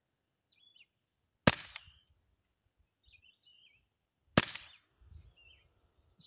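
Two sharp, suppressed rifle shots fired through a JK Armament suppressor, each a loud crack with a short ringing tail, a few seconds apart outdoors, with birds chirping faintly between them.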